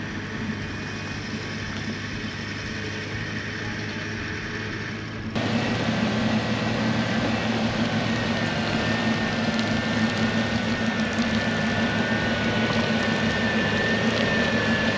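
Two off-road vehicles winch together through thick clay-like mud, a steady loud engine and winch drone that rises and thickens partway through as the second pull joins, continuous with no talk.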